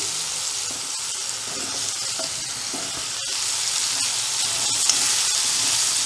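Potatoes with salt frying in a pan for aloo methi give a steady, loud, hissing sizzle that runs throughout, with faint stirring clicks and no voices.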